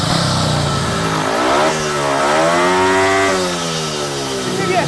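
A speedway motorcycle engine revs up loudly, its pitch climbing and dipping in two sweeping surges before settling, close and harsh.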